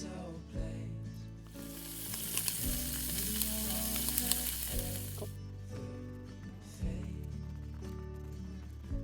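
A frying pan sizzles over a small fireplace while carbonara cooks, a bright steady hiss running for several seconds over a low-pitched music bed that keeps playing throughout.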